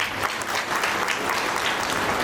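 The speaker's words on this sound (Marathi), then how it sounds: "चांगलं वाटलं, टाळ्या वाजवल्या," An audience at an agricultural award ceremony gives a burst of dense applause, many hands clapping steadily and close for a couple of seconds.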